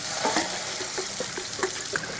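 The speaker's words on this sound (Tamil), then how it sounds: "இப்போ நம்ம கரைச்சி வச்சுருக்கிற மாவை இதில் ஊற்றிக்கலாம்." Batter being poured into a hot pan holding coconut fried with urad dal, chana dal and green chilli for uppu urundai, sizzling steadily up close with light stirring scrapes and no talk.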